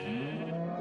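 A cow moos in the Minecraft video game, one short, slightly synthetic bovine call that sounds close and clear.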